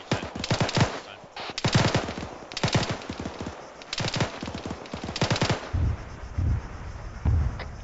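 Machine-gun fire in an Arma-style military squad training game: several long, loud automatic bursts in rapid staccato, separated by short pauses, then a few lower heavy thumps near the end.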